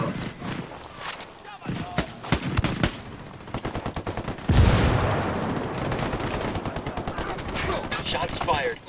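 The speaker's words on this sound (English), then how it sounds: "Shots fired." Cartel fighters and rebels exchange gunfire in Ghost Recon Wildlands: rapid bursts of automatic shots and single cracks, fairly close, with a heavier blast partway through and voices speaking under the shooting.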